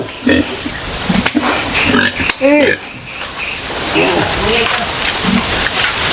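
Pig grunts and squeals come through over steady rain, with a person talking nearby in between.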